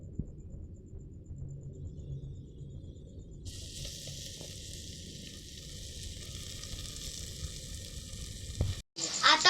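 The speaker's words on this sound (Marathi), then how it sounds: "कांदा लाल होईपर्यंत शिजवून द्यायचा." Chopped onion fries in a pan with ginger, garlic, chili and spice mix over a wood-fired stove, giving a soft steady sizzle that turns brighter and hissier partway through, with a clatter near the end.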